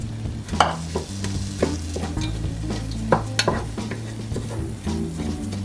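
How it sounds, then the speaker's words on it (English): Pumpkin soup is stirred in a hot pot, with a spoon scraping and knocking in irregular strokes over a steady low sizzle and hum. The sound is close and moderately loud. "We're going to turn our heat to get our pot really hot and stir in the meantime."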